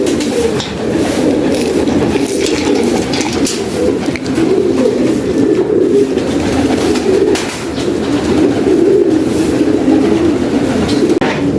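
Breeder pigeons in a breeder cage cooing continuously, loud and close, with overlapping low rolling coos and no speech.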